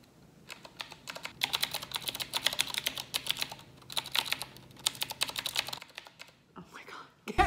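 Quick bursts of clicky keystrokes on a computer keyboard with typewriter-style keys, typed in several runs separated by brief pauses, close and fairly quiet, with a short rustle near the end.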